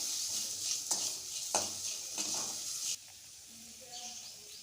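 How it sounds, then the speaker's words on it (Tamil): Chili powder fries in oil, sizzling softly in a pan while a spoon stirs with a few scraping strokes, then the sizzle settles quieter. "இந்த மிளகாய்த்தூள் நல்லா எண்ணெயிலே வதக்கிக்கோங்க."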